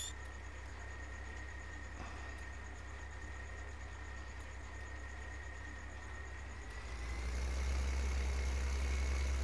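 A tractor engine idles steadily in Farming Simulator 15, a low continuous rumble that swells louder and deeper near the end as the revs rise.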